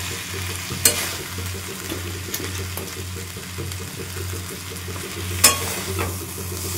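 Paneer going into a sizzling ginger, cumin and tomato masala, a steady close sizzle with a faint low hum beneath and two sharp clatters of the spatula against the pan.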